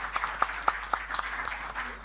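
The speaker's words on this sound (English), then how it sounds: "a round of applause for President Ta." Light audience applause at the opening of an annual general meeting, a handful of distinct claps ringing out over a thin scattered patter, moderately quiet and uneven in rhythm.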